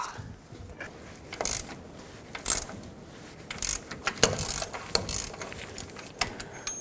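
A 34mm socket on a ratchet wrench clicks and cranks as a ball joint nut is broken free on a 2011-2016 Ford F-350, with irregular bursts of ratcheting and metallic clanks close by.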